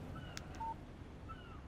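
A short electronic phone alert chimes once, a clear tonal beep for an incoming text message from Alan Wake, sounding over a low ambient game background with faint tones and no talk.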